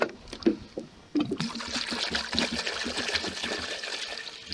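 Water is poured over potatoes in a cooking pot for boiling, a steady splashing gush after a few short clinks, continuous and close.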